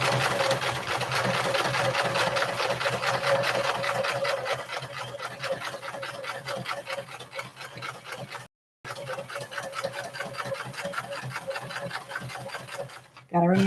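A sewing machine stitches across the fabric of a tiny standing bag, humming and clattering in a fast, steady rhythm, close and loud, with one short pause before stitching resumes.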